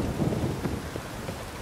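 Rain pours steadily in The Witcher 3: Blood and Wine, a dense continuous hiss of rainfall with low rumbling thunder underneath, no voices.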